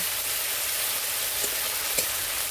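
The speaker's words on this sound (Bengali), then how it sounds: "মশলাটাকে আমি এবারে ভালো করে কষে নেব।" Spice paste with salt and turmeric sautés in a pan for a village-style vegetarian paneer dish, giving a dense, even hiss of frying with a couple of faint stirring clicks.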